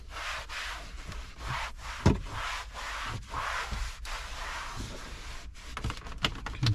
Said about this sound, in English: give it a little bit of a scrub down